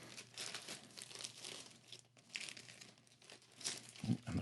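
Plastic packaging around a stack of comics crinkles and crackles steadily at close range, with a short tearing rip of tape being pulled off near the end.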